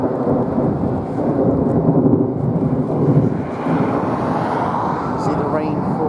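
Loud, deep rumbling thunder from a Texas supercell storm rolling on for several seconds over steady rain.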